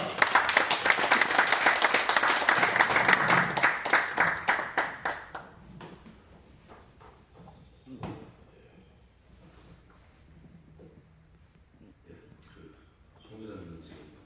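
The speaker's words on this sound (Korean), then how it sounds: "박수로 격려하면서 맞이하도록 하겠습니다" A church congregation breaks into warm applause in welcome, dense clapping for about five seconds that thins to scattered claps and quiet room noise, with faint shuffling and a voice near the end.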